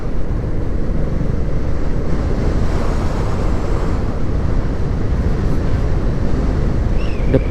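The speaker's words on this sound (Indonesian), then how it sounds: "Anginnya kenceng banget teman-teman." Strong wind buffeting a motorcycle rider's microphone while crossing a river bridge on a solo ride, a loud steady roar of rumbling gusts that fills the whole stretch without a break and with no talking.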